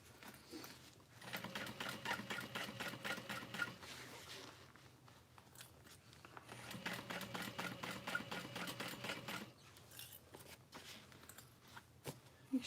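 Domestic sewing machine stitching through a foam-lined handbag with a zipper, running in two long rapid bursts separated by brief pauses, fairly faint and close with no talking.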